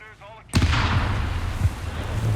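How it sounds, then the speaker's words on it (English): A landmine goes off in Company of Heroes 3: a sudden loud blast, followed by a sustained rumbling roar of battle noise. "Another mine going off."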